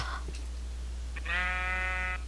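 A single Minecraft sheep gives one clear wavering bleat of about a second, close and alone over a low steady background hum, preceded by faint soft game noises.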